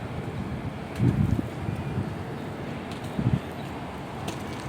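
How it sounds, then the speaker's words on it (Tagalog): Wind at a seaside promenade rumbles steadily across the microphone, with louder low gusts buffeting it twice and no voices. "Nandito na tayo sa tabing dagat. Mahangin."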